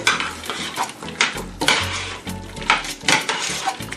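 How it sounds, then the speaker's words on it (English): Sour cream is stirred into a chowder in a metal pot, a spoon scraping and clanking against the sides in repeated close, uneven strokes, with a faint bubbling underneath and no talking. "Just dump about half of this container in there and stir it together"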